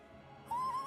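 An owl hoots once in a video game, a single clear sustained call rising out of a quiet background near the end.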